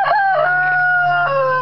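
A rooster, a Big Daddy among hens and probably a Partridge Rock, crows in one loud, sustained, wavering call close by, with a steady low hum running underneath.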